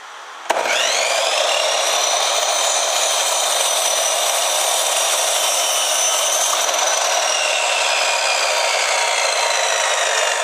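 A power saw rips through a long wooden board in a small shop, starting with a sharp bite and then holding a loud, continuous whining cut for about ten seconds.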